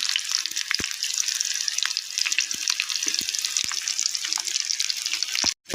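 Small shallots and asafoetida sauté in hot oil in a pan for coconut chutney, giving a loud, steady sizzle with a few sharp pops and light stirring clicks.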